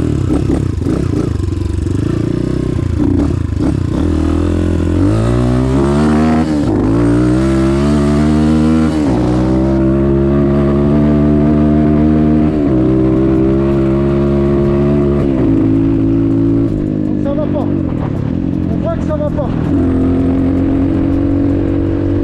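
A Rieju MRT Pro 2022 motorcycle on a test ride after a carburetor change, its engine loud and close, revving up and down through repeated rising and falling sweeps as gears change, with a slightly rough, stumbling note.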